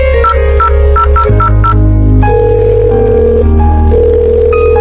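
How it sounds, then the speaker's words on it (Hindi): An outgoing telephone call sounds its ringing tone, a loud run of clean electronic tones stepping between different pitches, some short and repeated, others held longer, with no talking. "जरा फोन लगाकर पूछ तो लूं कि वो घर पहुँचा या नहीं।"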